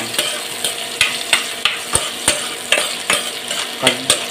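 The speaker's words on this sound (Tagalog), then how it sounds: "So unahin na natin yung gisa yung buyas." Sliced white onions sautéing in hot oil, a steady sizzle broken by regular sharp clicks of a utensil stirring against the pan, close and clear with no talking.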